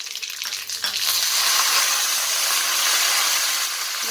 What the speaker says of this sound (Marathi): आता आपलं तेल गरम आहे, 1 चमचा तर जिरे मोहरी टाकत आहे मी।